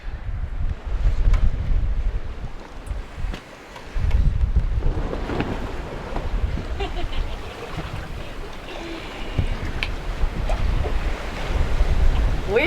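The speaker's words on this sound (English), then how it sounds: "Perfect day of sailing." A sailboat running downwind wing on wing off Roatan, Honduras, with loud close wind buffeting the microphone and waves rushing and slapping against the hull in uneven surges, no talking.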